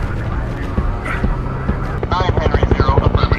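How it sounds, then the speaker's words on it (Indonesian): A police helicopter follows an armoured car, a steady rotor drone that swells into a rhythmic thumping, loud and near, mixed with speech over it. "Meskipun mobil polisi dan helikopter berhasil mengikuti mereka"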